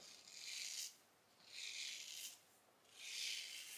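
A safety razor fitted with a Voskhod Teflon blade makes three rhythmic rasping strokes against the grain of the beard, close and fairly quiet, with no talking.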